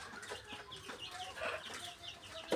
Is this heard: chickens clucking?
yes